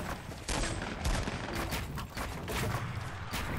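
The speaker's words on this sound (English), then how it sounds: "Someone shotgunned each other." Shotgun fire in Fortnite: Battle Royale, a rapid run of loud booming blasts in quick succession with dense gunfire texture throughout.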